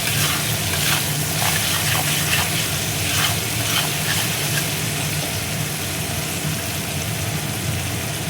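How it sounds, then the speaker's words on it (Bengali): Ginger paste fries with garam masala and a pinch of salt in a pan, giving a steady, dense sizzle with no talking. "আদাটা দেখো ভাজা হয়ে গেছে"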